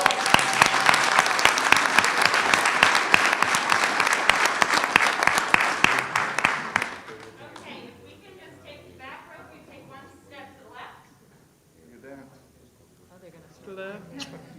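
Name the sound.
audience giving a round of applause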